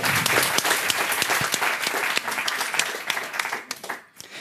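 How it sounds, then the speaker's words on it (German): Dense, sustained applause from the audience fills the hall at the Jugend hackt 2018 closing event in Ulm. It is loud and steady throughout and begins to thin out near the end. "Einen tobenden Applaus bitte."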